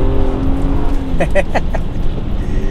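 A Honda Accord V6 on all-season tires powers through about a foot of deep snow, its engine droning steadily and loud, with a few sharper bursts partway through.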